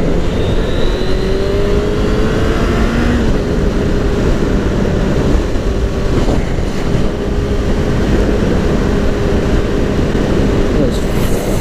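A Suzuki Bandit 600 motorcycle ridden at night, its engine droning steadily under heavy wind rush for the whole stretch, loud and close with slight shifts in pitch.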